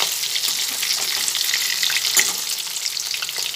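Chicken crispy snacks frying in oil over a medium gas flame, a dense continuous sizzle with light crackle, close and steady, no voices.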